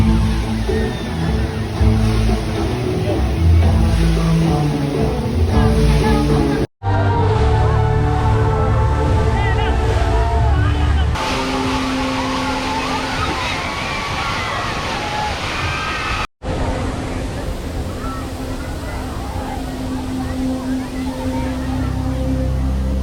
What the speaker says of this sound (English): The waterfall feature.